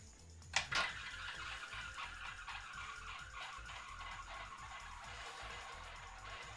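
A roulette ball spins around a live roulette wheel, making a steady, continuous whirring roll for the whole stretch, with a couple of sharp clicks near the start and no voices.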